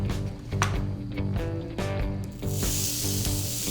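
A sharp, rising hiss of sisig hitting a smoking hot cast iron skillet swells in the last second or so, following a stretch of steady, humming background tones.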